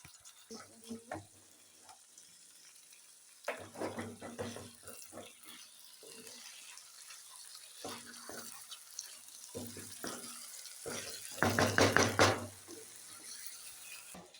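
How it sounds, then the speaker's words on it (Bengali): Water pours from a tap or vessel into a pot of washed Gobindobhog rice, irregular splashing bursts with quieter pauses between, swelling into a louder gush near the end. "জল দিয়ে দিচ্ছে।"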